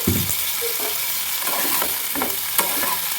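Turmeric and cumin powder sautéing in an oil-filled pan for a kachori meal, a steady loud sizzle with a few scraping stirs of the spatula over it and no voices.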